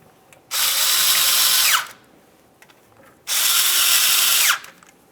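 A power tool drives the oil pan bolts on a 2005-2010 Dodge Dakota with the 4.7L V8, in two loud, close bursts of about a second each, separated by a short quiet pause.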